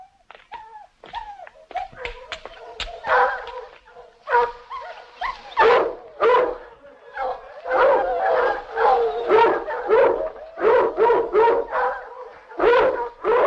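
Dogs bark, yip and whimper in a rapid, close run of short bursts, loud and uneven, with no talk over them.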